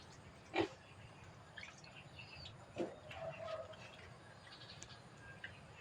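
Pigs on a farm give a few short grunts and squeals at moderate distance over a low background hum, with faint bird chirps between them.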